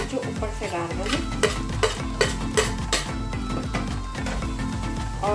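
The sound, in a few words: roasted elephant foot yam and grated ginger added to pan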